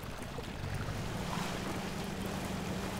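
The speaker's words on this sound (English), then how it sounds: "We gotta avoid the rushing water." Rushing water in the off-road driving game Spintires MudRunner, a steady, moderately quiet broadband wash with a low rumble underneath, continuous without breaks.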